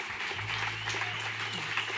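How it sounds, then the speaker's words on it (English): Crowd clapping at a Bernie Sanders caucus concert in Iowa, a steady, moderately distant wash of applause with a low hum and faint voices mixed underneath. "A big round of applause for Denise Carlos and the crew right here."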